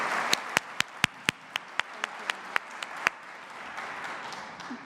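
A dozen or so sharp, separate hand claps at a Poetry Out Loud event spread out over a few seconds, ending as a soft, scattered patter fades into room noise.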